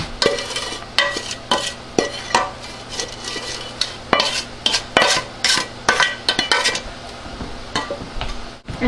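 Mango, apple, sugar and lime juice stirred together in a large pot, with repeated scraping and clinking of a spoon against the metal in an uneven rhythm, close and fairly loud.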